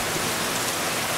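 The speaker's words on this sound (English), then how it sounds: "it's raining outside" Steady rain falls outside, a dense, even hiss of drops on surfaces, loud and constant with no other sounds.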